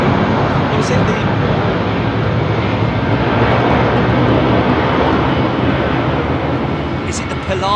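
A jet airliner roars loud and steady on departure from runway 27R at London Heathrow, its engine noise sustained and close throughout with no pause.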